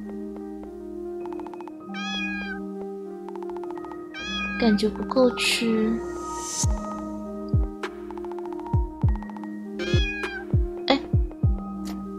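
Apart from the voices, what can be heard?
cat meowing in a video game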